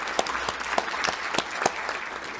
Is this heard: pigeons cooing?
no